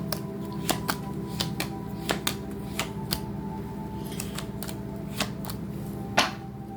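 Tarot cards shuffled and drawn, a run of sharp papery snaps and flicks at uneven intervals, close and fairly quiet over a low steady background hum.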